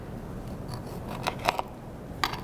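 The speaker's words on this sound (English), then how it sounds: "First, we're going to choose a tomato and cut it in half." A tomato is sliced in half for a small salad skewer, giving a few soft, brief cutting crunches close by against a quiet room background.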